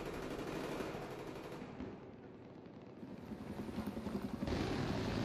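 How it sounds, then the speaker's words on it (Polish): Gunfire in Battlefield 3: dense bursts of automatic weapon fire and explosion rumble, loud and continuous, thinning briefly midway then swelling again into heavy rattling shots. "jakby ktoś z tej strony strzelał"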